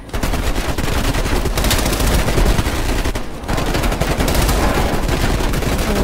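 Heavy gunfire fills a Call of Duty Cold War match, rapid automatic bursts and overlapping shots pounding loud and continuous with a brief dip near the middle.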